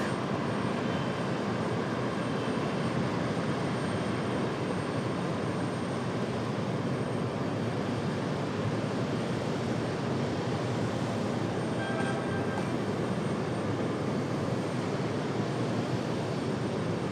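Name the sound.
aircraft passing at Raleigh-Durham airport (Aer Lingus Shamrock)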